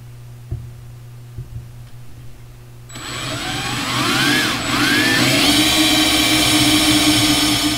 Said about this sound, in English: We're gonna use a step bit, and this particular one graduates from 3/16 of an inch all the way up to 1/2.